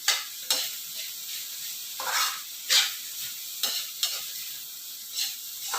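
Spoon scraping and stirring tofu, carrots and potatoes in a sizzling pan, steady frying hiss with a stirring stroke roughly every second, close by and alone without talk.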